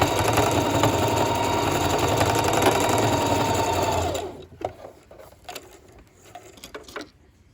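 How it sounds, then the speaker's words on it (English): A sewing machine runs a straight stitch on stretchy swimsuit fabric, its fast, steady mechanical whir loud and continuous for about four seconds, then stopping and leaving scattered soft handling clicks and rustles. "you put it up underneath the machine. And you straight stitch."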